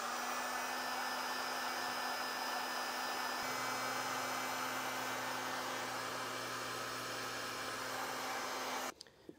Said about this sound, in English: come back with a heat source and shrink them down